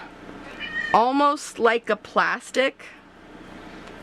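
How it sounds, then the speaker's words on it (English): A cat meows a few times, close by and fairly loud, mixed in with a person talking over a quiet background hum. "you can hear my cat in the background every once in a while"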